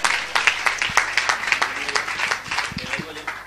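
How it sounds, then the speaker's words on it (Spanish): A small live audience at a Spanish magic show claps for a volunteer called up from the crowd, with irregular hand claps at a moderate, steady level under ongoing talk and a few louder close claps near the end. "darle también su aplauso"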